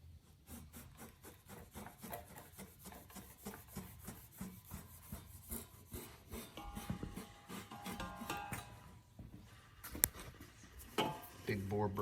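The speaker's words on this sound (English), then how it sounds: "I'm just wiping it all out right now." Rag wiping out the inside of a Ford 8.8 rear end housing, a quiet, rapid series of scraping, rubbing strokes with occasional light metallic knocks.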